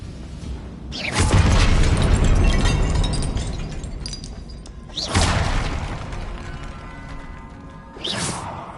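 Confringo blasting spells in Hogwarts Legacy go off as three separate whooshing booms, one loud and long and two shorter bursts, each followed by a trailing rumble.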